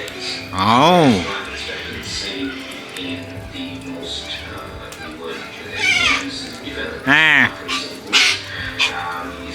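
Harsh barking calls from corellas at a bird sanctuary, two loud bursts separated by a pause, with softer chatter and voices in the background.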